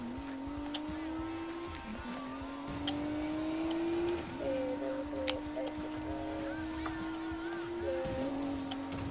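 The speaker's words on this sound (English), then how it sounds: "Look at that drift." A car drifting in the video game Need for Speed Payback, with a sustained engine drone that rises and falls as it slides, plus intermittent tire noise, steady and moderately loud.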